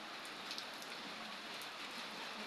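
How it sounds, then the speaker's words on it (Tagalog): Steady afternoon rain falls on a surface in the rainy season, a dense, even hiss that holds at the same level throughout with no pauses and no voices. "Mukhang magdamag yung ulan na yan."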